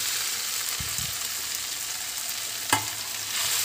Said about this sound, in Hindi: घी हमारा पिघल गया है। अब हम इसे चॉप किया हुआ आंवला इसी के अंदर डालेंगे।